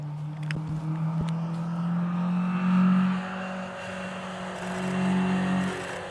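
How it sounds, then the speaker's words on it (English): An old Nissan Sunny classic car races at the Doune hillclimb, its engine droning steadily nearby and swelling in two surges as it revs past, with a couple of sharp clicks early on and no voices. "That was an old Nissan Sunny."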